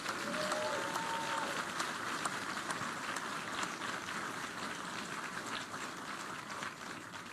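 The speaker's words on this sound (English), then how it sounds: "Please give her an incredible round of applause." Steady, dense applause from a large crowd at a West Virginia political rally, honoring a senator, holds loud and even for about seven seconds, with a brief whistle near the start before easing slightly at the end.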